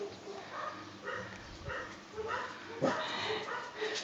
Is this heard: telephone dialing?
no